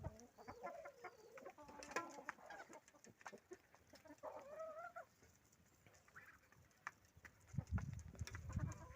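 Chickens cluck and chatter in a farmyard, with scattered calls overlapping through the whole stretch and a few low thumps near the end.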